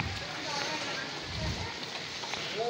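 Monsoon rain falling in a steady, dense hiss, with faint patter on surfaces throughout and occasional soft background sounds mixed in.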